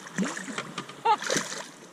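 A queenfish, a silver sport fish caught while fishing near Port Clinton, is released and lands with a short, sharp splash close by, set among soft water movement and a voice talking.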